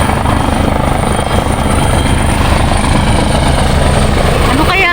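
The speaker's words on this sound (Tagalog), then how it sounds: "Helicopter!" A helicopter flies low overhead at a beach on Cheung Chau, Hong Kong, its loud, close rotor chop and turbine whine filling the scene continuously while people talk nearby.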